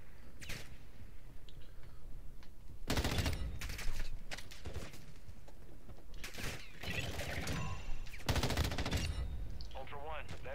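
Gunfire in Call of Duty DMZ is aimed at the player: repeated bursts of automatic fire and single shots crack out at varying distances over about ten seconds, with short gaps and some mechanical clatter between them.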